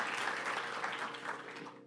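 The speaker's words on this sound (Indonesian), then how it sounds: "beri tepuk tangan sekaligus kalau memang mau beri tepuk tangan" A congregation breaks into dense, even applause that holds steady throughout, then begins to thin slightly at the very end.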